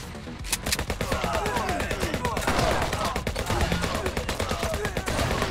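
Rapid bursts of gunfire in the HyperParasite video game, a dense machine-gun-like stream of sharp repeated shots that runs loud and nearly continuous from start to finish.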